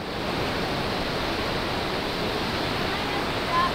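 Rough sea water surging and churning against the shore, a steady broadband roar filling the whole stretch, loud and continuous with no clear break.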